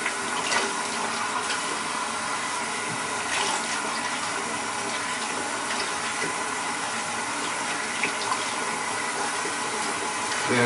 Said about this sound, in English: run your water a little warm, wash off